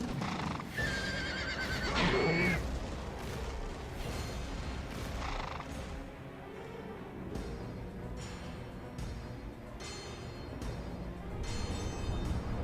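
A horse neighs in God of War II, a shrill whinny near the start amid game effects and clattering hooves, followed by thuds and metallic ringing sounds.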